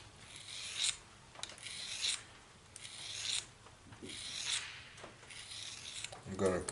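A broadhead edge being lightly stroked on a sharpening surface to smooth it, giving soft, close raspy rubbing strokes in an even rhythm, roughly one pass per second, with brief sharper scrapes.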